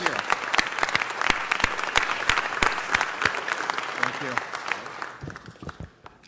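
Audience applause fills a city council meeting hall, dense steady clapping with sharp individual claps standing out, thinning to scattered claps near the end.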